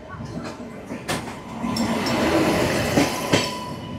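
A double-decker train rumbles past nearby on Indian railway tracks, a loud continuous roar of wheels on rails with a few sharp clanks and squeals.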